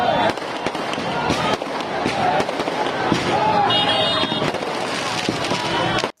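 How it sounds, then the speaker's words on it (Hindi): Firecrackers burst at night during a celebration, sharp pops and crackles scattered through a loud, noisy outdoor scene with a voice talking over them. "देखा आपने, इसमें रात के समय किस तरह पटाखे फोड़े जा रहे हैं"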